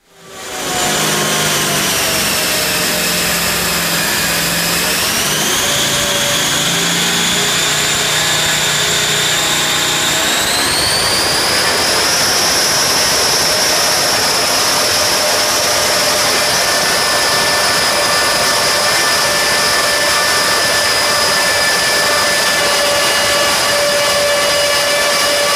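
A supercharged, intercooled 557 cubic-inch engine roars at full load on a dynamometer, its pitch sweeping upward in steps before holding a loud, sustained high-rpm scream with a whining blower tone. No voices are heard.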